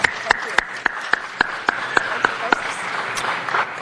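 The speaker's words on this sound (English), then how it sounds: "Please, a round of applause for our new commissioner." Applause at a city council meeting for a newly sworn-in commissioner, with sharp individual claps in a steady rhythm close by over a murmur of room noise.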